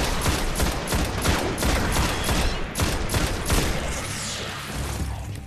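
Rapid bursts of gunfire in the Destiny beta, including shotgun blasts, with sharp loud reports in quick irregular succession over several seconds and a dense, near, crackling texture throughout.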